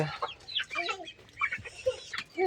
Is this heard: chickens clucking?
yes